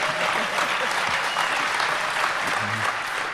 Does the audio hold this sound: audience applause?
yes